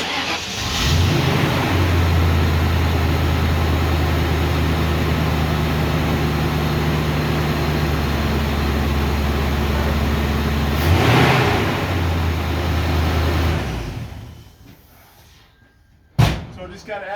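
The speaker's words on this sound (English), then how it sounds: "You can hear the exhaust and see what we sound like." A 1956 Ford F100 pickup, chassis-swapped onto a 2000 Explorer frame, fires up and idles with a steady, loud, low exhaust rumble, a revving swell midway, then the engine cuts and a sharp slam follows.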